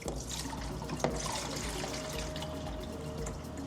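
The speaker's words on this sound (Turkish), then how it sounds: "Suyumuzu şöyle döküyoruz." Water is poured steadily into the reservoir of a kitchen ice ball maker, making a continuous trickling splash with faint dribbles throughout. The sound is close and fairly quiet.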